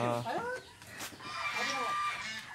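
Native chickens cluck and squawk close by, with a rooster-like call among them, in a short busy burst of farmyard noise.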